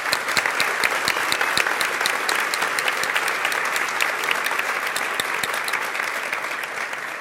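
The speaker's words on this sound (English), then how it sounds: "So a big hand of applause to them." Sustained audience applause for volunteers at the end of a show, steady dense clapping from a sizable crowd lasting several seconds with no talking over it.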